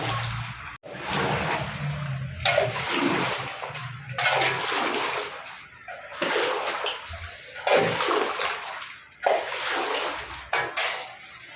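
Boondi is stirred through sugar syrup with a perforated strainer, making repeated wet sloshing and swishing strokes in steady bursts, close and fairly loud, with no talk.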